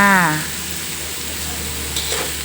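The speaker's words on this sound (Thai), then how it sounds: "เดี๋ยวเราก็จะใส่เห็ดลงไปเลยนะคะ" Mushrooms hit a hot pan while stir-frying holy basil stir-fry, giving a steady, loud sizzle and frying hiss that continues after a brief opening tone of someone speaking.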